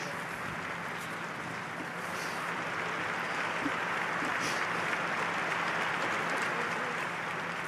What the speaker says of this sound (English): She also received this standing ovation.